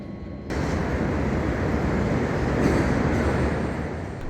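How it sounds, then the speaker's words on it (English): A train pulls into a station at night in South Africa. A sudden onset opens a steady, broad rumble that continues, loud and close, with no speech. "the train arrives at my destination"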